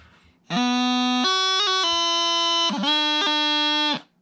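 A short phrase of In Christ Alone on a bagpipe practice chanter, with a reedy, steady tone, quick grace-note flicks between held notes, played alone, close and clear for about three and a half seconds.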